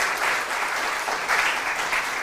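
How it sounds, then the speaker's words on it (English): A school quiz audience gives the contestants a round of applause, a brief dense wash of clapping with small swells, close and steady. "A round of applause for this round and our contestants."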